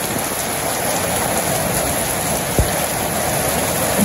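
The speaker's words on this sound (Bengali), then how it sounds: "এই যে দেখেন কত সুন্দর বৃষ্টি হইতেছে" Steady rain pours over a village in Bangladesh, a dense, even hiss of drops on surfaces with one soft thump partway through and no voices.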